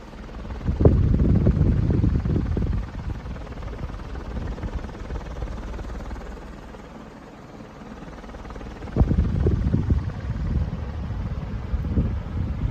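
A strong Commander Pacific Breeze ceiling fan whirs with a steady, rushing drone, with occasional louder gusts of air buffeting the microphone.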